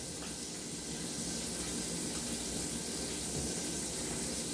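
Andouille sausage sizzles in a pot for jambalaya, a steady broadband hiss and crackle holding at an even level from start to finish, with no talking.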